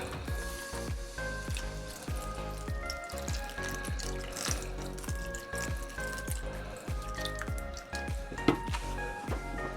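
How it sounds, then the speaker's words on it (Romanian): Water runs from a kitchen sink tap into a jug, a steady trickling stream with small drips and splashes, close by and with no voices. "voi mai umple cana. De data asta cu apă de la frigider, de la chiuvetă."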